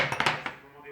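Salt, flour and water being stirred together in a salad bowl for salt dough, giving a few quick scraping clinks of utensil against the bowl early on that then fade to quiet.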